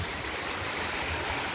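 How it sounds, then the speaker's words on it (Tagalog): Floodwater rushing after heavy typhoon rain, a dense, steady roar of flowing water that stays constant and loud throughout, with no voices. "dahil sa lakas ng ulan bumaha na din"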